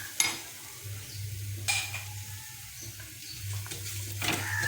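Chopped green chili and curry leaves sauté in a pan for Kerala beef roast, giving a soft, steady sizzle broken by a few stirring scrapes and clinks.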